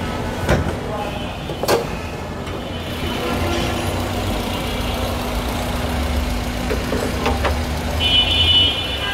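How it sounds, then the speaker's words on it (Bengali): A car's 1500 cc VVT engine idles with a steady low hum throughout, joined by a few sharp clicks and knocks and some faint background noise. "1500 সিসি ভিভিটি ইঞ্জিন মাশাআল্লাহ, খুবই ফ্রেশ অবস্থা আছে।"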